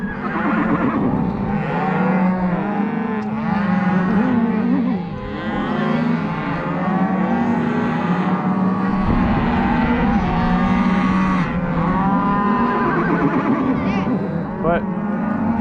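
Cattle at a ranch branding in southeast Montana bawl and moo repeatedly and loudly, close by and overlapping, amid a busy herd with horses around and people talking.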